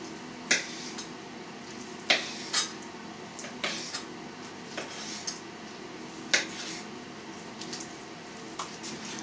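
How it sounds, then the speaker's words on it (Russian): Pork brisket being sliced into pieces for sausage, with a knife knocking against a board or dish in about half a dozen sharp, irregular taps over a quiet kitchen background. "Грудинку нам вообще не надо будет измельчать"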